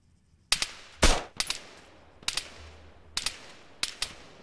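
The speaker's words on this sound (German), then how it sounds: "die Schüsse" Sharp gunshots ring out in Arma 3, about six loud cracks spaced irregularly over a few seconds with short decaying tails and no talk.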